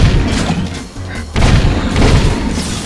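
Gunfire in the Jak 2 video game, a dense run of booming, thudding shots that keeps up loudly for the whole stretch, with a short lull near the middle before it picks up again.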